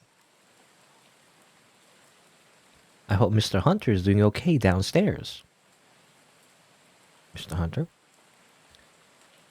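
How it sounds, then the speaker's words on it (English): Faint steady rain patters in the background of a video game, a soft constant hiss that runs under two bursts of someone talking and carries on alone between and after them. "It's raining outside and I can't seem to fall asleep."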